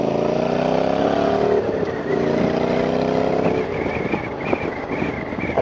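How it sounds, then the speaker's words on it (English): Honda motorcycle fitted with an aftermarket slip-on exhaust, engine rumbling and revving with rising and falling pitch while riding, loud and close, with wind noise and no talking. "I think she sounds pretty good for a Honda, to be honest, especially with my aftermarket slip-on pipe"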